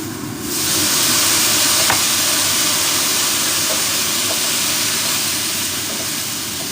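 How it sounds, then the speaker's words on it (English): Water poured into a hot pan of oil-soaked mushrooms hisses into a loud, steady sizzle with rising steam, a broad continuous wash of noise with a few small pops, close by and without talk. "what we're going to do is going to add some water real quick"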